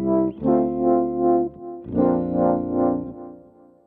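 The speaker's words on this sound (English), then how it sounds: "we're using something called a wave pedal, which can oscillate the sound depending on a particular tempo that you predetermine" Guitar run through a Boss SY-1000 wave pedal patch, a filtered synth-like tone with distortion and chorus: two sustained chords that swell and pulse rhythmically to a set tempo, loud and alone.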